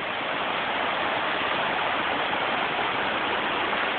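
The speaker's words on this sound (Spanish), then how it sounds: "Es agua que corre en una piedra. Un río pasa encima de una piedra." Water of the Cachoeira Tobogã waterfall in Brazil rushes over rock as a steady, loud, broadband hiss and roar, continuous without any voices.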